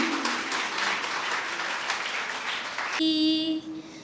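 Audience applause for Naunehal The Trust School at a school assembly in Lahore, a dense steady clapping from a crowd that fills the first three seconds, then gives way to a sustained musical tone.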